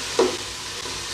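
Curry leaves, mint, coriander and green chillies sautéing in hot oil, a soft hiss with a brief stir sound near the start, close and fairly quiet.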